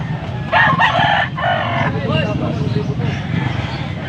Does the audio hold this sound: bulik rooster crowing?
yes